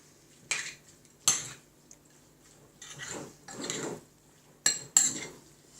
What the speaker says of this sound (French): je vais rajouter du persil que je vais couper en petits morceaux. On va mélanger.